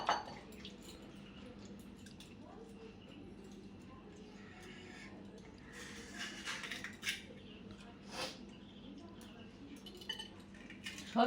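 A spoon clinks and scrapes against dishes while fuchka is scooped up, a few light metallic taps and scrapes standing out over soft background noise.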